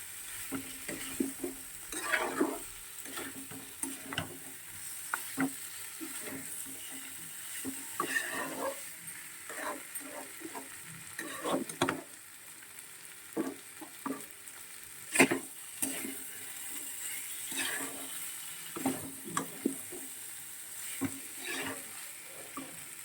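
Curry masala for a cabbage and shrimp dish fries gently in a pan, with a soft sizzle beneath repeated scraping clicks of a spatula stirring it, close and quiet.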